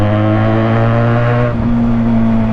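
Exhaust note of a QJ Motor SRK 400 motorcycle, a steady loud engine drone held near the listener for a couple of seconds, with a slight dip in pitch partway through and no talking.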